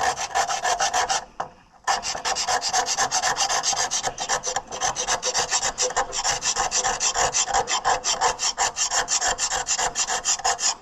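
Carbide scraper scraping brake parts on an Oliver 1650 tractor, rapid repeated rasping strokes in a steady rhythm, close and alone, with a short pause early on.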